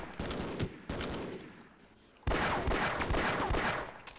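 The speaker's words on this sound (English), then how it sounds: "Just using a pistol because it's more accurate." Pistol fire from the shooter game Half-Life: Uplink, with two separate bursts of sharp shots. A short gap follows, then a denser, louder run of gunfire, all close and with no voices.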